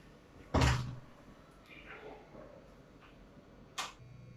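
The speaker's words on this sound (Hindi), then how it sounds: "तो इसका फोटो लो" Two sharp camera shutter clicks, one early and one near the end, as students photograph a classroom board during a chemistry lecture, with quiet room tone between.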